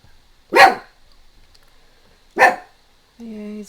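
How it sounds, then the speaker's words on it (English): A dog barks at the neighbors indoors, two sharp, loud, separate barks about two seconds apart, followed by a short tonal whine-like sound. "he's barking at the neighbors now"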